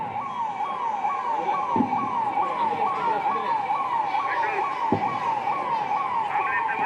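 Ambulance siren wailing steadily and loudly during an air-raid mock drill in Shivamogga, its repeating sweeping tone continuous over crowd and street noise, with two sharp thumps along the way.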